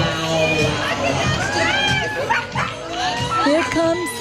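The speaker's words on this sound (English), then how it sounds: "The crowd is going wild with Cece." A crowd at a Yorkie rescue event cheers and whoops excitedly, with high shouts overlapping in bursts. The noise is close and lively, and a dog barks faintly within it.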